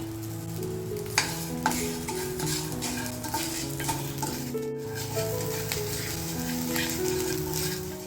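Spices and salt sizzle and fry in a pan for idli podi, with scraping stirs, occasional utensil clinks, and a low musical background running throughout.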